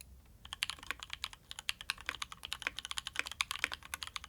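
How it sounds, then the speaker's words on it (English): Steady, fairly quick typing on a mechanical keyboard, with crisp, clicky keystrokes sounding close and alone. "Typing on it doesn't sound obnoxious, but stands out enough to really let you know that an actuation happened"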